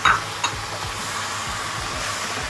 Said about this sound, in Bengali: ভালোভাবে নাড়তে হবে না হয় জমে যাবে